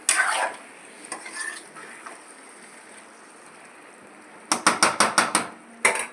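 A utensil stirs chopped tomatoes into a curry in a cooking pan: faint scrapes early on, then a quick run of sharp metallic clinks and scrapes near the end.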